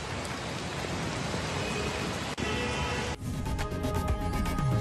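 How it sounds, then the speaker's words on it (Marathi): Heavy monsoon rain pours down in Pune, where the streets are flooding. It makes a dense, unbroken roaring hiss that changes texture partway through. "मोठ्या प्रमाणात पावसाने हजेरी लावल्या. पावसाने झोडपलेलं आहे."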